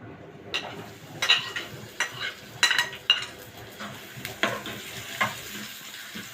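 Onion frying in a little oil in a pan on the stove while making kishk, a steady soft sizzle broken by scattered stirring scrapes and light clinks of a utensil against the pan.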